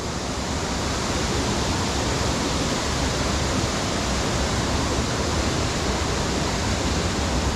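A secondary waterfall at Harmby rushes continuously, a steady, loud broadband roar of falling water with no breaks and no voices.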